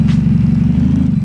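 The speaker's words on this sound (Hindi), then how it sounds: "Let's start the engine." Toyota Supra fitted with nitrous, engine starting and settling into a loud, steady low idle with a rapid pulsing rumble, close up and with no talking.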